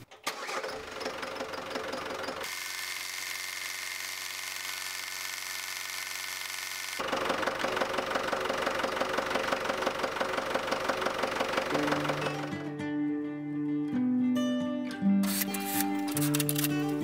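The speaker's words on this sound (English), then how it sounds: "I'm just gonna go and start the engine and let it circulate." A Ford Transit van engine is started after a cooling system flush with a new radiator and thermostat housing, then runs steadily at idle for a long stretch, ending with a few tonal beeps and chimes.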